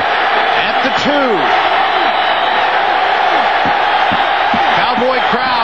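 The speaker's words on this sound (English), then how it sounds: "Cowboy crowd making as much racket as they can" Oklahoma State Cowboys football crowd in a 2002 home stadium game against Nebraska, a steady dense roar of cheering and yelling with scattered whoops, loud and continuous under play-by-play commentary.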